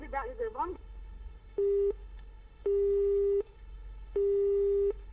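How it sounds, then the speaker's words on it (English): A phone line sounds a repeating tone after a dropped call, three flat beeps of uneven length spaced about a second apart, clear over faint line hiss after brief talk at the start. "Sorry, the phone got cut."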